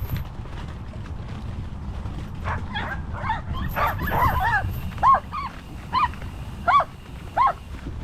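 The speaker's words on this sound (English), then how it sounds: "there's some enthusiastic dogs there." Several dogs bark excitedly behind a fence along a single-track cycling trail, a run of separate yips and barks at moderate distance over steady wind and tyre rumble.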